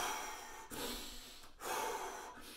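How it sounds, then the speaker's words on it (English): Slow, calming breaths drawn in and released through the nose, close and quiet, in three long airy strokes separated by brief pauses. "I do some form of calming breathing"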